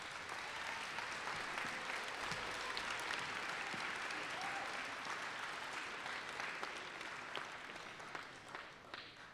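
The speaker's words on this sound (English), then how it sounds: "One special applause for them, please" An audience at a school band concert for sixth graders applauds, giving sustained, dense clapping that stays steady and then thins out slightly toward the end.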